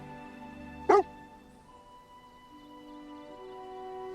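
A dog in the final scene of a film gives a single sharp bark, loud and close, set against a sustained musical score.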